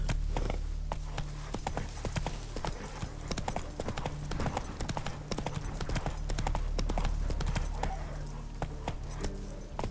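Roach, a horse in The Witcher 3, gallops at a steady pace, with loud, close hoofbeats clip-clopping rapidly and continuously over a low ambient rumble.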